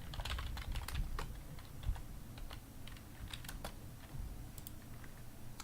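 Fast, uneven bursts of typing on a computer keyboard while coding a C++ console library, crisp close key clicks with brief pauses and no talk.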